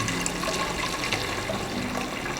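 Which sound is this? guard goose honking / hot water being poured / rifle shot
hot water being poured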